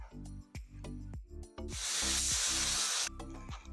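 A pressure cooker cooking chickpeas lets out a loud, sustained hiss of steam for a second or so in the middle of the clip, with harmonic tones and background sounds before and after.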